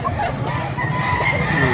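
A Hatch Gray rooster at a poultry market in Lipa, Batangas gives a few short clucks and a strained crow-like call over busy crowd murmur at close range.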